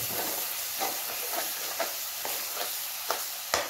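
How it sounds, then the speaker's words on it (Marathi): Masala roasting and frying in a pan for a spicy village-style paya rassa (trotters curry), giving a steady close hiss and sizzle broken by a regular rhythm of stirring scrapes about every half second, with no voices. "हे बघा आपला मसाला किती छान भाजला आहे"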